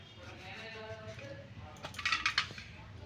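A knife slices through whole tomatoes at the middle before they are boiled in water for tomato sauce, giving a short run of crisp, close cutting and tapping clicks after a quiet kitchen stretch.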